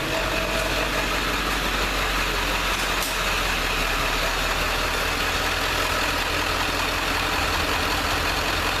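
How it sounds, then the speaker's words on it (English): A Ford F250 pickup's 7.3 liter International diesel engine idles steadily while warming up before an oil change, a loud, close, continuous rumble with an even low throb and no talking. "drive the vehicle around, get it warmed up"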